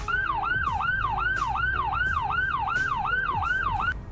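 Rapid yelp siren of a Greenville Fire Rescue vehicle in the Roblox game, a fast, evenly repeating up-and-down whoop about three cycles per second, loud and near over low engine hum, with periodic clicks.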